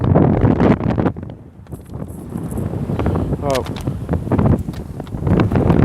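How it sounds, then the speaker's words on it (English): Gusty wind buffets the microphone with low rumbling blasts that rise and fall, with a brief voice-like tone partway through. "It's getting windy."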